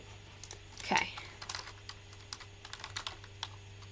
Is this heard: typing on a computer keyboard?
yes